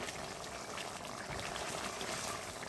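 Potatoes and fish curry bubble away at a steady, dense boil in a pot, a continuous close hiss of roiling water with no breaks, no other sounds.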